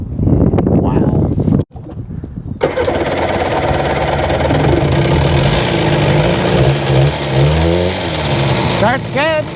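A Sea-Doo RFI 787 personal watercraft engine, running with no map sensor connected, cranks and catches after a short gap, then runs loud and steady with a rough mid-range drone and wind buffeting, while people talk over it.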